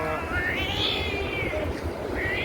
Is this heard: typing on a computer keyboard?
no